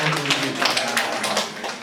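Audience clapping at a church class-promotion gathering, a dense, steady patter of many hands filling the room throughout, fairly loud and without talk.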